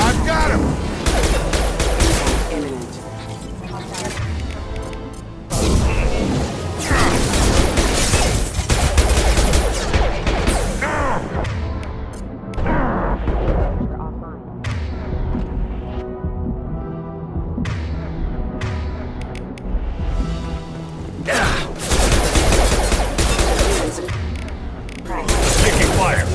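Gunfire from the video game Mass Effect 2, dense bursts of rapid shots and heavy booms that come in waves with short lulls between, loud and close throughout, with voices talking over parts of it.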